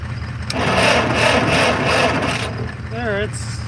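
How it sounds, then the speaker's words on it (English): A Massey Ferguson Super 90 tractor under repair, with weak spark, cranks over in a steady rhythmic churn with uneven firing, loud and close, followed by a brief squealing whine as it stops and a person talks. "There, it's firing every 4 cranks, or every time that distributor cap the rotor rotates."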